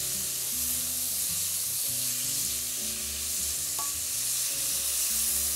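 Meat fries in batches in a pot, giving a continuous close sizzle with stirring scrapes throughout, a dense steady crackle at moderate loudness with no voices.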